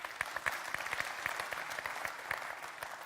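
Scattered applause from a conference audience at the World Tourism Forum Lucerne, a moderate round of clapping with many overlapping hand claps, fairly steady throughout.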